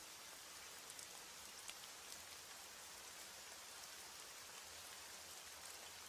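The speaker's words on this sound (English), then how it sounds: "As the rain falls and the night deepens" Steady rain falls through the night in an even, continuous patter of drops on surfaces, a dense hiss with small irregular taps that stays unchanged throughout and plays alone with no voices.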